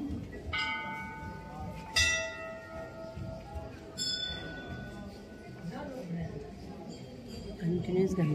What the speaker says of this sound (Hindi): कंटिन्यूस घंटियां बज रही है, बनारस जैसा लग रहा है